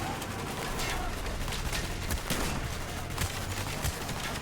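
Dense, continuous gunfire from the Call of Duty: Black Ops video game, a steady wash of shots with sharper bursts throughout, loud and up close.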